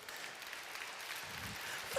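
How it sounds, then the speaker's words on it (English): At a horse-training showdown event, a crowd applauds in a steady, dense wash of clapping that carries on without a break, heard from across the arena. "look, they're just cheering for you"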